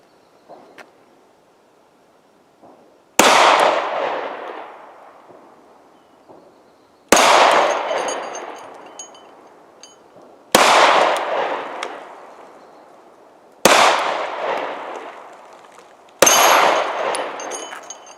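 Five gunshots are fired at a bowling pin, metal targets and a gong, each sharp crack ringing out with a metallic clang, spaced a few seconds apart on a quiet range.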